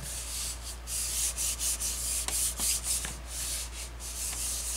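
A background stamp being rubbed by hand onto card, a steady soft scratchy rubbing in repeated strokes, close and fairly quiet, with no talk.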